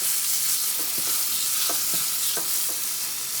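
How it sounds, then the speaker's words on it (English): Ribeye steak sizzles in olive oil with garlic in a pan on a stovetop, a steady broad hiss with a few soft pops and stirring ticks, close and alone without talk. "when you drop the steak in there, you want to hear a little bit of a sizzle."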